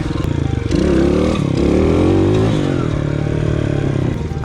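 A motorcycle engine revs hard and close as the rider holds a wheelie over bumps, the pitch climbing and holding, then dropping back to a lower rumble with some clatter.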